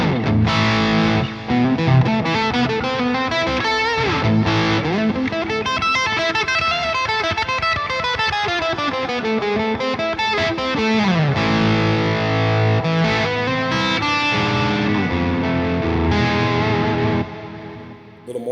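Electric guitar through a Bogren Digital amp plugin on its gain channel, played as distorted chords and riffs that ring out continuously for nearly twenty seconds, loud and alone.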